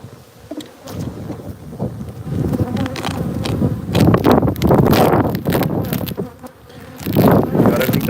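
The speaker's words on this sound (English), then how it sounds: "Oh, there's lots of bees up the top." Bees buzz thickly at a two-box beehive, with many insects crowding the top. The dense droning swells and fades close to the microphone, mixed with wind rumble.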